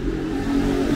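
Honda CB 300 motorcycle with a two-cylinder engine revs close by, a steady, loud mid-pitched engine drone with a faint rising whine, continuous over the short span.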